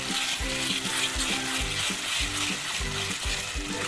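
Ground masala paste sizzling in hot oil in a pan for a fish curry, with rhythmic scraping strokes of a spoon stirring it, close and steady under a constant frying hiss.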